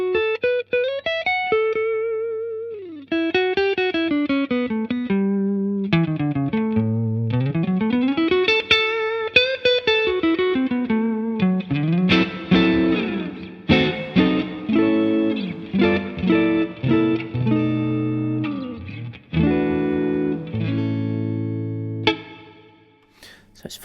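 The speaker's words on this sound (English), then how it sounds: "you will hear the spring reverb coming in, just like you did just now with the drum" A played instrument runs through an AKG BX20E 1970s stereo spring reverb, a sequence of sustained, gliding and then choppier notes with a splashy spring tail that grows denser and ends in a decaying wash.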